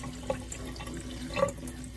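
Warm water runs from a tap for watering Phalaenopsis orchids, a faint, steady splashing stream with a couple of small drips, heard close and alone.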